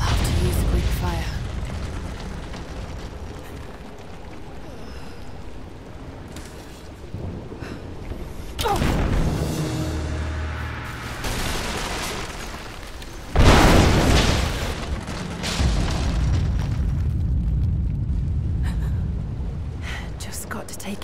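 Fire explosions tear through the supports of an unstable statue in Rise of the Tomb Raider, with loud booming bursts around the middle and a large blast near the end, followed by rumbling debris.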